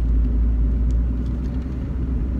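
Steady low interior rumble of a car being driven, a dense, constant road and engine drone filling the cabin with no talking.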